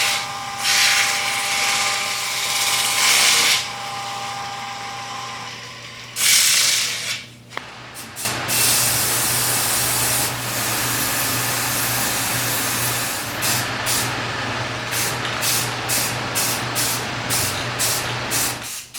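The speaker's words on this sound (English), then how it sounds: "spray paint and lacquer seemed a more correct fix" Aerosol spray paint hisses in long continuous bursts onto a 1940s ice cream scoop, with short pauses between passes and a series of quick, sharp spurts toward the end.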